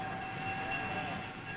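Passenger train with an observation car, a steady rumbling rail hum with a faint whistle-like tone running through it, continuous and moderately distant.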